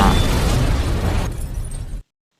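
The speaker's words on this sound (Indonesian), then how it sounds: "ternyata Jack dan Samuel meledakkan sebuah isi kantornya" A film explosion blows up an office, a loud dense roaring blast that rumbles on for about two seconds before cutting off abruptly into silence.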